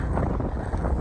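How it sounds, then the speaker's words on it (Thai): Strong outdoor wind in a snowy place buffets the microphone with loud, rough, continuous low rumbling, alone without voices. "โอ้ยลม"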